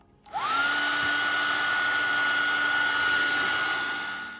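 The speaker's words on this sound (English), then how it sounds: "I'm going to go ahead and dry this with my hair dryer" A hair dryer switches on and blows with a steady, high-pitched whine and airy rush, running continuously close by while drying a watercolor painting.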